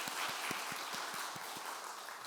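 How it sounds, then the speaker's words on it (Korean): Applause at a Korean Sunday church service, faint and distant, a soft wash of clapping with a few low rhythmic thumps running through it. "박수 한번 해주세요"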